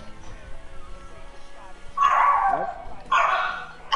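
A dog in a PS4 video game barks in two sharp bursts, the first longer and yelping, the second shorter, over a quieter stretch of game sound and some talking.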